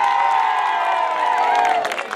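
A crowd at an outdoor entrepreneurship fair whoops and shouts in sustained cheering, loud and continuous, with excited high voices rising and falling together and some clapping mixed in.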